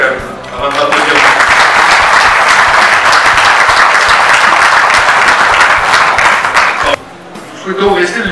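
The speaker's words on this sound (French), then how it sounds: "vous pouvez tous vous applaudir quand même, avant de m'applaudir." A crowd at a company Oktoberfest event breaks into loud sustained applause right after a speaker pauses, the clapping swelling quickly, holding strong, then cutting off near the end as a voice returns briefly.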